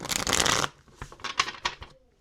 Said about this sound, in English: let me shuffle this one more time